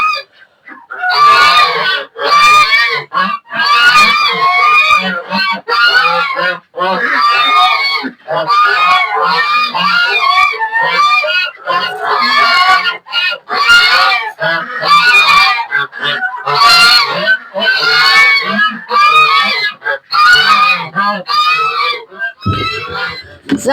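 A flock of geese kept alongside ducks and chickens honks loudly and close by in a winter farmyard, with dense, overlapping calls repeating almost nonstop.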